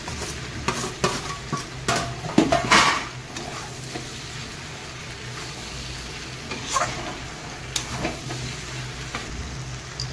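Prawns frying in a pan with boiled taro and yellow and black mustard paste for a prawn chorchori, with a steady sizzle broken by scraping stirs and a few clanks from a utensil.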